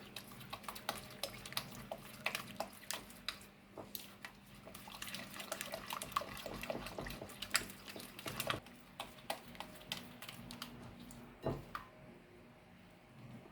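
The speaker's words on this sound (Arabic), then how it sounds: "وهندي بقى تقليبه كده" Cookie dough with eggs, vanilla and salt being stirred in a bowl, giving soft wet sticky squelches and irregular clicks of the utensil against the bowl, close and fairly quiet.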